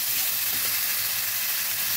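Ground coriander, cumin and chili powder stirred and fried in a pan for a Bengali katla fish curry, a loud, even, close hissing sizzle with faint scraping underneath, no talk.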